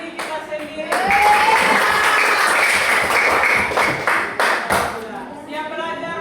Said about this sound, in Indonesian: Tepuk tangan untuk kita punya diri kita sendiri.